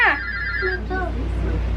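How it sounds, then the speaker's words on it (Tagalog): A telephone rings with a bright electronic trill, loud and close at first, then fading as a person's voice and room noise carry on underneath. "may tawag sa telepono"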